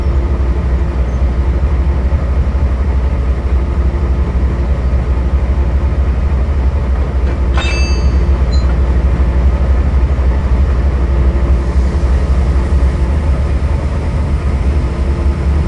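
Locomotive number 7331, a powerful diesel on a full-throttle top speed test, runs on rails with a steady, loud low rumble and constant rolling noise throughout, plus a brief metallic clank partway through.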